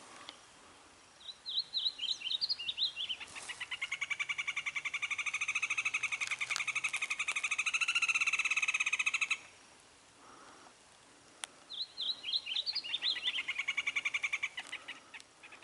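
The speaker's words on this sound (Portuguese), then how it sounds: "Vou mostrar os pássaros cantando para vocês." Birds at an old farm give repeated bursts of rapid, trilling calls, a longer dense stretch of chattering song in the middle, then further quick call series; clear and fairly near against quiet background.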